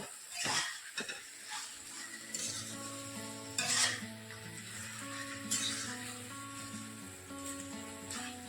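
Chilli paneer with spring onions being stirred and sautéed in a pan, a steady sizzle of frying running under repeated scraping stirs and occasional clinks of the utensil against the pan.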